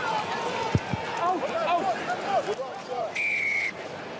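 A rugby sevens referee's whistle gives a thin, slightly wavering blast amid crowd noise and chatter, with a short sharper whistle tone near the end.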